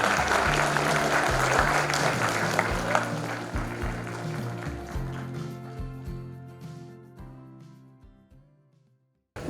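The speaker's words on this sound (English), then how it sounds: "Please give them a big round of applause" A school audience at an English Week celebration gives winners a round of applause that starts full and gradually thins out, with a low hum underneath, before fading to near silence.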